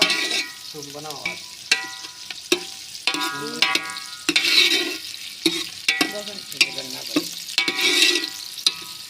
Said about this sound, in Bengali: পেঁয়াজটারে প্রথমে একটু ইয়া করে নিচ্ছে বেরেস্তা করে নিচ্ছে এইভাবে